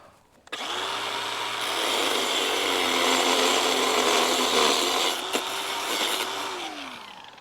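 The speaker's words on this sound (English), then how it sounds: "Lucky I have a grinder on batteries." A battery-powered grinder whirs up to speed and cuts steadily at close range, a loud sustained whine with a wavering pitch that spins down briefly and revs again before winding down, with no talk.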